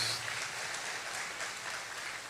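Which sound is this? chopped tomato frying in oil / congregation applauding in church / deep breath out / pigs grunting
congregation applauding in church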